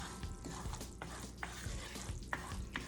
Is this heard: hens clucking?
no